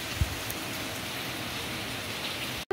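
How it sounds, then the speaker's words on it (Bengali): Heavy rain pours down the outside wall of a high-rise building, a steady dense hiss of water with no pauses, fairly close, ending in a sudden cutoff. "দেখো পুরো দেয়াল বেয়ে বেয়ে বৃষ্টিটা পড়ছে, ভালো বৃষ্টি হয়েছে।"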